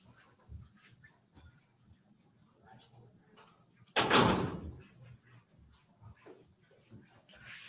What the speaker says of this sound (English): Hold on, let me close this door.